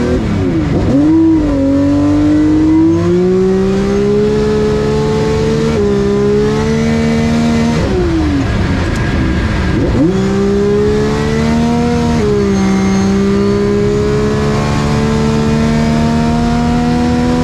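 Homemade 1000 HP V12 race car accelerating hard at the El Mirage land speed trials, a loud sustained engine roar climbing through several gear changes with brief dips between shifts, close and continuous throughout.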